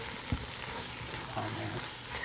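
Sausage hits a hot pan and crackles in a steady, faint sizzle with a soft thump as it lands and light stirring noises.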